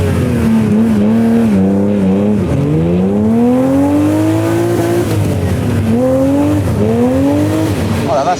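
A classic Ferrari sports car with a 400-horsepower engine launches from a standing start, its loud, close engine note climbing in pitch through two rising gear pulls, with a brief shift dip between them.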